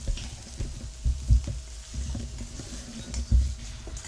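Ground cumin, pepper, coriander and garlic sautéing in a hot pan for rasam, a steady close sizzle with soft stirring scrapes and occasional louder clacks, no talking.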